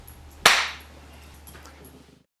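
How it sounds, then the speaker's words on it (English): A single sharp hand clap marks the start of an interview take in a mockumentary film. It snaps close and loud, then a short room decay fades under a low steady hum. "Can you state your name and clap?"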